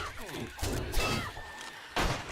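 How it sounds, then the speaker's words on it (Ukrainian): Blows against a door in 7 Days to Die, a few heavy thuds separated by pauses and heard close, mixed with background game noise and voices talking over them. "Я б'ю двері."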